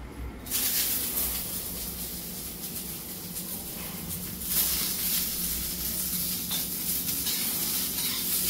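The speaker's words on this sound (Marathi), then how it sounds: "आता आपण टाकूया कांदा" Onion frying in a dry pan for dhaba-style shev bhaji gives a continuous close sizzle and hiss, with a few faint stirring scrapes.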